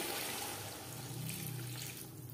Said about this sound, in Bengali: এই পর্যায়ে দিয়ে দেব জল